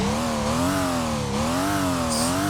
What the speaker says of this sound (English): you can see I'm having a little fun revving it because the engine's complete